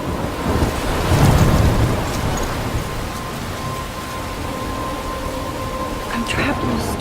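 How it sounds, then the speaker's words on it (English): A thunderstorm with steady heavy rain in the Life is Strange video game, a dense roar of rainfall with a deep rumble of thunder swelling early on, continuous and fairly loud throughout. "I'm trapped in a storm?"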